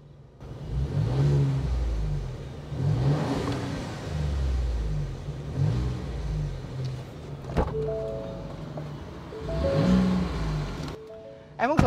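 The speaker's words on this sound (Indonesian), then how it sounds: "kita dengerin dulu suara mesin 3500 cc V6 turbonya" A Ford F-150 Raptor's 3.5-litre V6 turbo engine revs repeatedly in several rising surges, a deep moderate roar with short lulls between bursts, heard from nearby with no talking.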